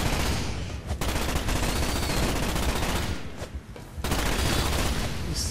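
Continuous rapid gunfire from an infinite-ammo gun in the Starship Troopers video game, a dense sustained fusillade with a brief dip in the middle, loud and close with no talking.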